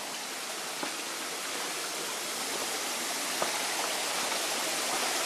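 Water rushes in a constant broadband wash, like a brook flowing close by, with an occasional small splash or click, on a trail near Sieur de Monts Spring, Acadia National Park.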